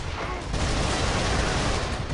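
Loud, dense burst of explosive blasts from a grenade launcher in the video game Resistance 3, continuous and harsh over a couple of seconds.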